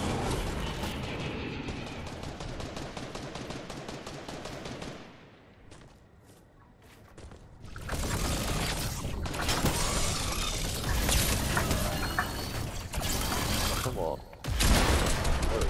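Gunfire in the Fortnite video game comes as bursts of rapid automatic shots, a short lull, then a long loud stretch of heavy firing and impacts, with voices mixed in.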